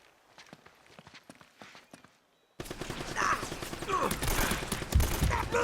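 Machine gun fire in Uncharted: Drake's Fortune breaks out suddenly after quieter footsteps and small clicks, becoming a loud, continuous barrage of rapid shots with heavier impacts mixed in.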